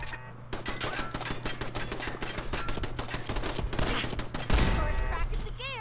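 Gunfire in the video game Fallout 4, rapid bursts of shots rattling continuously for several seconds, loud and dense, with a heavier impact near the end and game music underneath.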